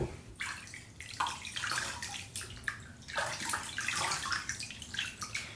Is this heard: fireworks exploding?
no